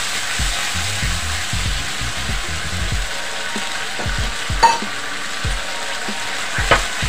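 A tomato, ginger and green chili paste fries in a pan, a low sizzle beneath irregular scraping strokes of a spoon, with a couple of sharper clicks against the pan, close and without talk.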